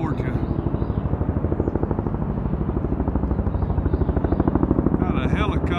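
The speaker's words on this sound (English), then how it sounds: "Got a helicopter, but too many trees down there." A helicopter flies over flooded Lake Allatoona in Acworth, Georgia, its rotor thumping in a fast, even, loud pulse throughout.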